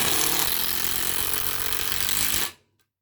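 A Makita drill runs flat out in a speed test, a loud, dense, steady whine that holds for over two seconds and then cuts off abruptly into silence.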